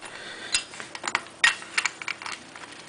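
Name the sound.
17mm wrench turning the nut on an Elcon clutch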